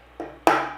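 Hammer strikes fixing two golf balls onto a wooden piece, two quick sharp knocks close by with a third starting at the end, no talk.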